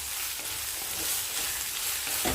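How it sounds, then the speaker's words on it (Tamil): Raw plantain pieces sauté in hot oil for a Tamil plantain poriyal, giving a continuous close sizzle with soft scraping as they are stirred around the pan. No talking. "வாழைக்காய் சேர்த்துட்டு எண்ணெயிலே லைட்டாக வதங்கட்டும்"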